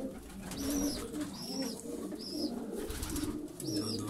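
Pigeons cooing as they enter their loft after a flight, several soft repeated coos close by, with rustling and faint wing movement between calls.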